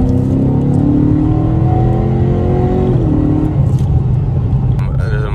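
Loud car engines drone and rev steadily nearby as a Ford Mustang and a Dodge Challenger race past, the engine pitch rising then settling, with someone talking over the roar.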